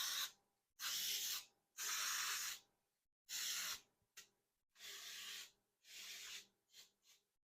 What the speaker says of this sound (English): And you just spray it right in there.